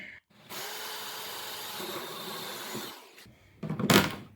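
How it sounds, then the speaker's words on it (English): A hole saw grinds through the wall of a plastic wading pool in one continuous, fairly close buzzing cut lasting a few seconds, followed by a short burst of scraping and rattling as it finishes. "Pick our spot and make a hole."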